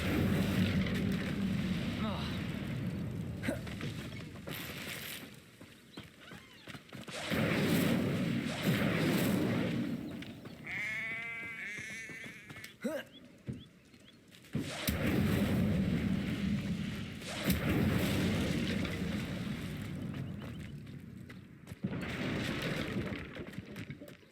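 Incendio fire spell cast in Hogwarts Legacy: whooshing, crackling flame bursts come in repeated waves, mixed with rumbling impacts and a brief warbling magical tone partway through, moderately loud with game sounds around it.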